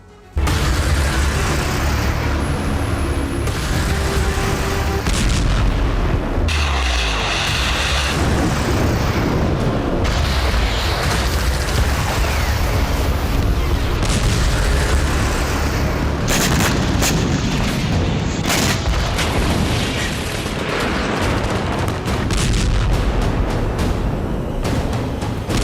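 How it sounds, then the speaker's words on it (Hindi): Continuous explosions and artillery fire from the war in Ukraine, with heavy booms and blasts pounding densely one after another for about 25 seconds, loud and close with cracks of gunfire and no speech. "इसी तरह 24 घंटे में 1000 विस्फोट हुए।"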